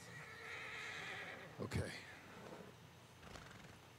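A horse in Red Dead Redemption 2 gives a faint, brief whinny amid low background rumble, with someone speaking a single word and a few soft hoof clops.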